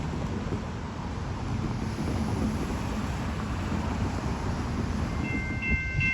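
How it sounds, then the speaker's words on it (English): A freight train slowly approaching a town crossing rumbles low and steady with wind noise over the microphone, and a faint horn-like tone enters near the end. "Soon the crossing gates activate as the train slowly creeps into town."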